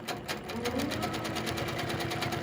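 A sewing machine stitches a quilted four-leaf clover vine, its needle running in a steady, rapid, even rhythm close by with no pauses and no talking.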